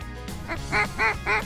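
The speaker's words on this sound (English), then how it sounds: "There's a lot of pintails out here. You gotta sort through the pintails and the mallards." Pintail and mallard ducks in an open field give three distinct bursts of quacking, fairly close and loud, spaced about a quarter second apart over a low background hum.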